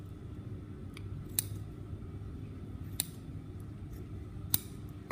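Scissors trim the seam allowance on a top collar, giving three or four sharp, crisp snips spaced about a second and a half apart, close and quiet over a low background hum, with no talking.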